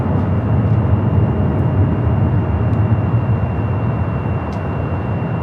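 A jet airliner at LAX, flight 803 bound for Honolulu, roars steadily with a broad, loud engine rumble and a faint whine, sustained without pause from start to finish.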